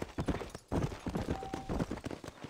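Horse hooves trot in the video game Red Dead Redemption, a fast steady clip-clop rhythm close by, with a brief pause early on, alone without talk.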